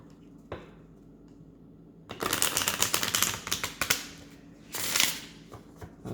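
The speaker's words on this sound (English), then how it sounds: "One more shuffle." Crisp riffling bursts of a card deck being shuffled, a rapid fluttering clatter starting after a quiet pause, then a second short burst near the end.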